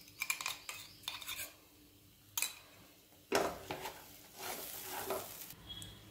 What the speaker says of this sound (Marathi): हे मिश्रण कोरडं होईपर्यंत हलवत राहायचं आहे